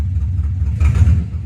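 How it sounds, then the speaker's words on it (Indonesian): A motorbike engine idles with a steady low rumble close by while a custom speedometer is fitted, swelling slightly for a moment before settling back. "Nah ini RPM nya berjalan begitu Proy."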